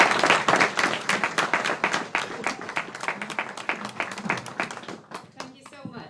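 Applause from a conference audience at a science park event, many hands clapping in a steady crackling stream that stays fairly loud for about five seconds before thinning out, with faint voices mixed in.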